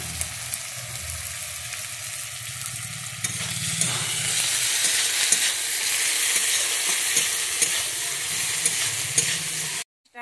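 Rohu fish curry ingredients with salt sizzle and fry in a pan while being stirred, a steady close crackle with scraping stir strokes that grows busier midway.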